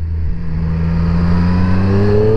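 Exhaust note of a 2020 Triumph Street Triple RS motorcycle under acceleration, a loud, close engine drone whose pitch climbs steadily as the revs rise.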